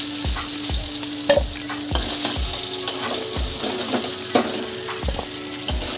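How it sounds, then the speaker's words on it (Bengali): Fried potatoes sizzling in hot oil in a kadai as they are scooped out, a loud, close hiss under a regular series of metal ladle scrapes and knocks against the pan, no voices. "আলুগুলো ভালো করে ভাজা হয়ে গেছে,"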